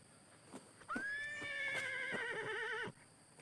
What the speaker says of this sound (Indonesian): Ini dari tadi saya dengar ringkikan kuda kayak kerik tuh.